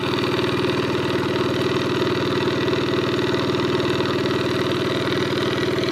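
An engine-driven water pump runs nearby while draining a drying pond to catch fish, giving a loud, continuous, even drone with a steady mechanical throb and no talking.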